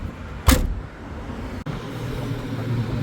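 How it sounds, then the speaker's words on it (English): The manually lifted tailgate of a Citroen C4 is shut, giving one loud, short slam near the start, followed by a quieter click and a low steady background hum, with no talk. "This car does not have a power tailgate, it has a manually lifted tailgate, as you can see. To close, this is how you close it."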